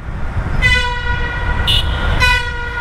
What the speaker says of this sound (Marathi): गप नको एवढं हॉर्न वाजू